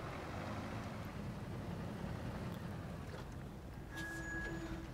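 A GAZ-66 truck in SnowRunner, its engine a steady, muffled low drone throughout, with a thin high brake squeal near the end.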